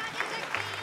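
A studio audience on a children's singing talent show claps for a young singer, a brief burst of dense applause with crowd noise and voices mixed in.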